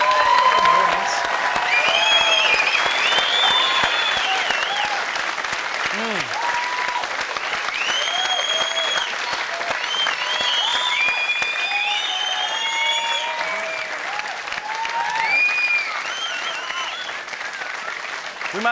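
A studio audience applauds on a TV talk show, steady dense clapping sustained throughout with a few whoops, fairly close, with no talking over it.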